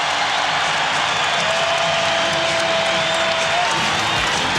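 Basketball arena crowd at the Rose Garden during a 2000 playoff game against Minnesota, a steady broad roar of cheering and noise filling the space continuously, loud and diffuse with no single voice standing out.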